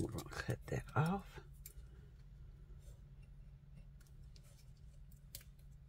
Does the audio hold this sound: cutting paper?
yes